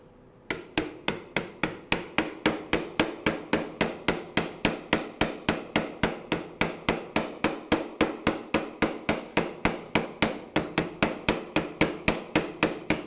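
Steady, rapid hammer blows strike a shoulder biomodel in a rotator cuff surgery workshop, in an even rhythm, roughly three or four per second, close and sharp, continuing without pause.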